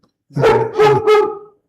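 Three quick, loud barks from a nearby house dog come in a rapid burst, alone with no talking.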